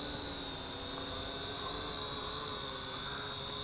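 Small WLToys Q696-A camera drone descending with throttle pulled down, a faint, steady high-pitched whine of spinning propellers heard alone at a distance.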